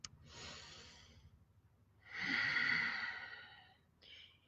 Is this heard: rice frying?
no